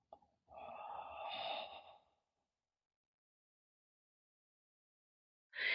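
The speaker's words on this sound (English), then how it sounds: "it's important that you hear that exhalation" A deep exhalation through the nose during a breathing exercise, one long breathy rush lasting over a second, close and clear, followed by silence before another breath begins at the end.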